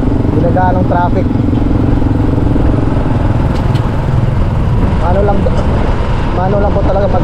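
Heavy road traffic near a shopping mall in the Philippines, with motorcycles and other vehicles rumbling in a continuous dense wash of engine noise and faint voices mixed in throughout.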